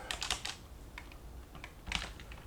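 Quick bursts of clicky computer keyboard typing, close and clear, in short clusters separated by brief pauses.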